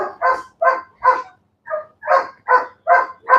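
A dog barks repeatedly during bite work training, a steady series of about nine sharp, loud barks at close range with a brief pause in the middle.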